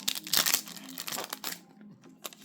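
A Yu-Gi-Oh card booster pack being unwrapped gives off quiet, close crinkling and tearing foil rustles in short irregular bursts, with small pauses between handling sounds.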